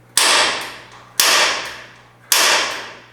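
Three sharp metallic snaps from a spring-loaded punch marking a steel patch panel during torque box repair on a 1971 Camaro, each a loud close crack with a ringing decay, spaced about a second apart.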